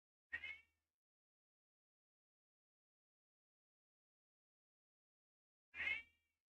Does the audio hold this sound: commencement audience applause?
no